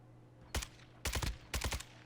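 Rifle shots in Call of Duty DMZ: one sharp crack followed by two quick bursts of rapid shots, crisp and fairly close, over a steady low hum with no talking.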